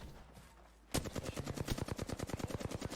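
Rapid automatic gunfire in a fast-paced shooter video game bursts in after a quiet second, a loud continuous string of close shots at a steady, quick rhythm lasting to the end.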